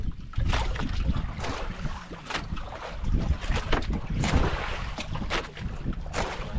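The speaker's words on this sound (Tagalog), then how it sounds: "Ito yung mga alon." Ocean waves slosh and churn around a small fishing boat at sea, a continuous rough wash mixed with wind buffeting the microphone and no clear speech.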